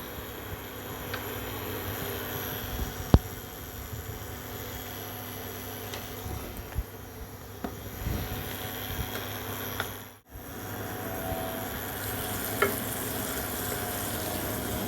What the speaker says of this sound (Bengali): কড়াইতে দিয়ে দিচ্ছি বাটার